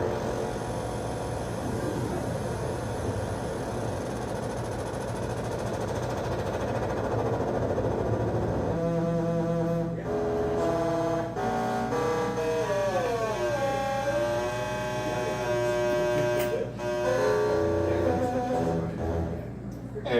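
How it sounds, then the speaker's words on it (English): A Moog synthesizer FM patch gives a gritty, buzzy, grinding tone that sustains loudly, then shifts into rapid pulsing and bending pitch sweeps over twenty seconds. "you tend to get some nice like grindy guitar kind of sounds"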